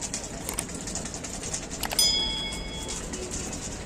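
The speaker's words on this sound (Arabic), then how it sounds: "طلع الحمامتين" Pigeons kept in a loft make soft, intermittent cooing and chirping sounds over a steady background hum.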